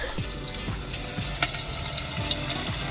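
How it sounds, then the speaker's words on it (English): Close, crackling sizzle of jalapeno peppers frying in a pan, a continuous bubbling hiss with a few brief pops. "Oh, you can hear those sizzling."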